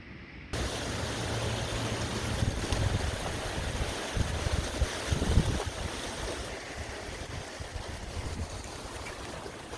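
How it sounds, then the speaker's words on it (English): Strong wind from a huge windstorm roars and buffets the microphone in steady gusts, a loud rushing noise with low rumbling blasts and no voices. "it's so windy out right now"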